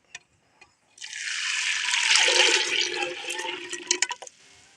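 Water pours steadily into a pot for urad dal porridge, a continuous splashing stream lasting several seconds before tapering into a few last drips, close and fairly loud with no talk.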